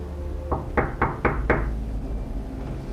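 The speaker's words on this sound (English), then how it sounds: "a loud knock echoed through the house" Five sharp, fairly close knocks rap on a house door in a quick, even series, heard over a low rumbling background as a storm rages outside.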